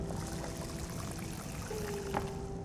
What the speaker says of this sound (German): Und füllen den hier mal mit Wasser.